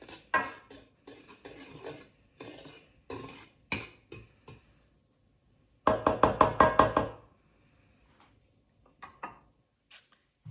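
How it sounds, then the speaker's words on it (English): A utensil mixing dry ingredients in a bowl for Hokkaido milk bread, rapid rhythmic clinking and tapping against the bowl in quick bursts, close and crisp, with silent pauses between rounds of stirring. "So we're gonna get these dried ingredients mixed up, right?"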